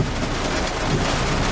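Thunder rumbles low and steady through a heavy rainstorm, with continuous rain noise filling the short stretch and no distinct crack.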